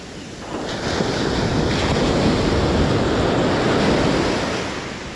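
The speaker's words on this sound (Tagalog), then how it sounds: "Masyado na malakas yung alon dun." Strong ocean waves surge and wash steadily at a coastal fishing spot, a loud continuous broadband roar with wind buffeting the microphone, swelling after the first half second and easing slightly toward the end.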